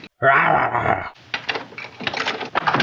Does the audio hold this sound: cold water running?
no